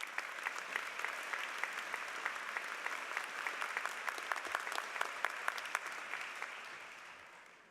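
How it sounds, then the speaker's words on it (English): Graduation-ceremony audience at a university commencement applauds a student regent, a steady dense wash of many hands clapping that holds evenly for several seconds before tapering off. "so give Will a round of applause, would you please?"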